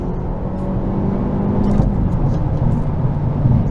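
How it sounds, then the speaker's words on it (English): A Hyundai Elantra N on a race track holds its engine against the rev limiter, producing a loud continuous droning roar with a steady pulsing buzz heard close and alone. "Hit that rev limiter."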